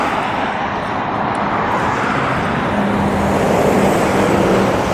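Traffic on a busy UK A road with a shoulder, a loud continuous roadway roar of cars and lorries passing close by, with a rising engine drone in the latter half.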